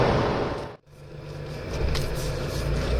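A 1983 Porsche 911 3.0 SC under way gives a steady, close engine drone and road rumble, with a brief dip near the start, like a gear change, before the engine note builds again.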